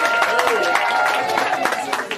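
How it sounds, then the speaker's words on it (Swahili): A church congregation clapping steadily during a service, dense overlapping claps with a babble of voices mixed in throughout. "Tupige makofi mengi."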